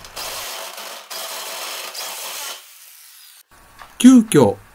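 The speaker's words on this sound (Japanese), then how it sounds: "ステップドリルで穴を開けますが、全く使い物になりません。" A step drill whines and grinds through metal for a stove in several loud bursts, then stops, and a person speaks briefly.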